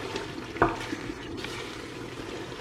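Herbs (oregano, rosemary and thyme) being stirred into a simmering jollof stew base in a pot, a soft steady bubbling with one sharp spoon knock near the start and faint scraping throughout.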